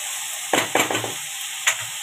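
Finely chopped chillies and other vegetables sizzle in a hot pan, a steady hiss broken by several scraping stir strokes in quick bursts, close and fairly loud with no talking.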